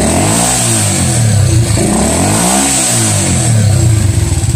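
A motorcycle engine revs up and down in two or three rising and falling surges, loud and close, while its charging system and regulator rectifier are being checked.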